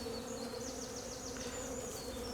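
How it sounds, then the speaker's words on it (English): Honeybees from a spring walk-away split colony buzz steadily around the open hive while the queen is released, a close, continuous hum with a few individual bees droning past. "I'm just going to release the queen here and let the bees take her."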